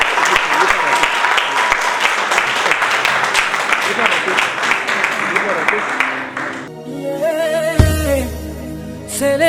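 Guests at a civil wedding break into sustained applause after the signing, loud and close, followed by a recorded song with singing starting up.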